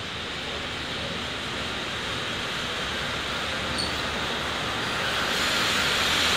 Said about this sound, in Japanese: まもなく列車が参ります。